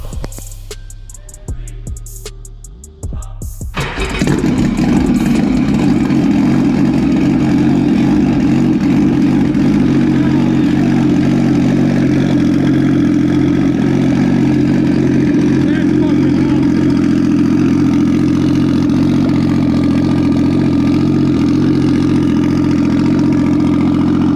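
A 90 mph turbo jet ski engine fitted with a new homemade exhaust fires up after a few seconds of handling noise, then runs at a loud, steady, droning idle close by for the rest of the clip.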